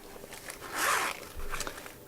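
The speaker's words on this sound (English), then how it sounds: "and it has a gold zipper." A quick gold zipper pull on a velvet pen pouch rasps close by, a short bright zip followed by a second softer stroke, with faint handling noise around it.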